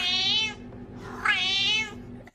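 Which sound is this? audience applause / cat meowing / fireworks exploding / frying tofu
cat meowing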